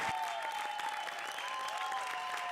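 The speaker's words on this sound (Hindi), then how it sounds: "जोरदार तालियां हो जाए" Sustained applause from a studio audience on a Hindi comedy show, steady and even throughout, with a bright tonal hum running beneath the clapping.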